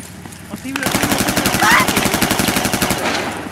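Rapid machine gun fire in the military shooter Squad, a loud continuous burst of evenly spaced shots lasting a few seconds, with a brief voice over the gunfire.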